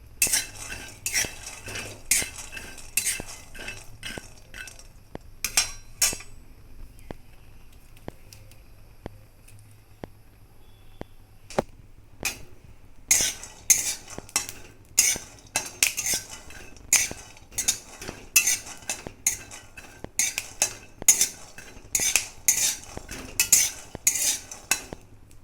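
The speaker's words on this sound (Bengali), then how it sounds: "শুকনো কড়াইতে কিন্তু বাদামগুলো ভালো করে ভেজে নিব।" Peanuts dry roasting in a dry kadai, stirred with a metal spoon: repeated close scraping and rattling strokes in quick bursts, a short quieter pause midway, then steady rhythmic stirring with nuts clattering against the pan.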